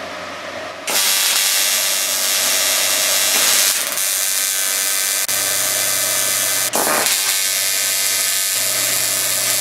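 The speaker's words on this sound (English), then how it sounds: "we'll see if we can't get that tube welded in there" TIG welding a tube into the aluminum wing fuel tank of a Piper Supercub: a harsh, loud, continuous buzzing hiss starts abruptly after a quiet moment and runs steadily, with a few brief breaks and no voices.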